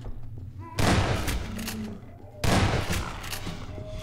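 Two loud bursts of gunfire from a gun in the video game Half-Life 2, each a sudden broadband blast that trails off, spaced about a second and a half apart over a low background hum.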